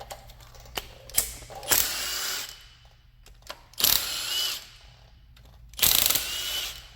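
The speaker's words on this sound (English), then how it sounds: "Now I gotta get the upper head bolts off." Ratchet loosening the upper head bolts on a 5.3 V8 engine damaged by a broken valve spring: three bursts of rapid mechanical clicking, each lasting about a second, separated by quieter pauses, close and fairly loud.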